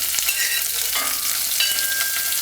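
Scallion and pepper for stewed codfish sizzle loudly and steadily in hot oil, close up, with a few faint stirring taps and no talk.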